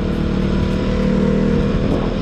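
A KTM Duke 200 motorcycle engine revs steadily at close range, a continuous loud drone with a low, throbbing exhaust note and no talking over it.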